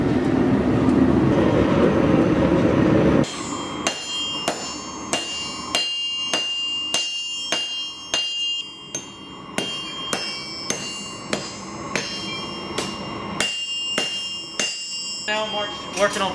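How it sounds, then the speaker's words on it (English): Hot steel is forged into a knife. A roaring forge gives way to a run of sharp, ringing hammer blows on the anvil, struck close by at a steady working rhythm with short pauses between bursts. "Got our metal, it's time to go on the forge."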